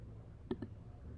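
Two quick, close computer mouse clicks land about a tenth of a second apart over a quiet room background, with no talking.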